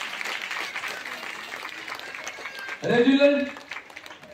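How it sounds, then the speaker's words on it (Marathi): Applause from a crowd at a cultural women's celebration event rolls on steadily at moderate distance, with a voice briefly speaking over it near the end. "जोरदार टाळ्या यांच्यासाठी"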